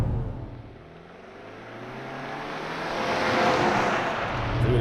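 A 2023 Subaru Legacy GT with a CVT accelerates hard from a launch, its engine a steady broad drone that swells gradually as speed builds, with road and wind noise filling the cabin.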